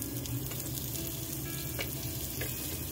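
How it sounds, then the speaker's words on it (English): Onion rings fry in bacon grease in a warm pan over low heat, giving a steady, close crackling sizzle with a few sharper pops and no voices. "throw them into the pan with the bacon grease"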